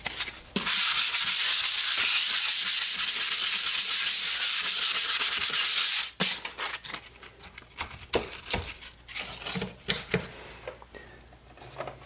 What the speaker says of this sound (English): Between each coat, you're going to sand